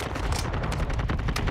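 Rapid gunfire from a shooter video game played on a PS5, a dense, loud stream of shots packed together with no pauses and no talk.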